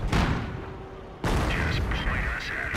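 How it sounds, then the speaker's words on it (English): Artillery shells from a Hummel self-propelled gun land in a Company of Heroes battle, a sharp loud blast cutting in midway and leaving rumbling, crackling explosion noise with a voice underneath. "Hummel barrage in right there."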